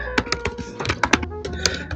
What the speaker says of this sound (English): I'm now typing into Google blank accent example